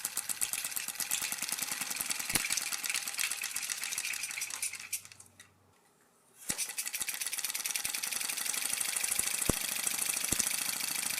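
A homemade engine with mineral oil injected into its exhaust ports runs with a rapid rattling, knocking beat and a few sharp clacks. It stops briefly, then starts again and runs a little louder than before.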